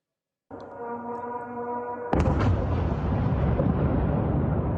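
A low droning tone holds briefly, then a sudden loud blast erupts into a sustained roaring rumble that slowly fades, with no voices present.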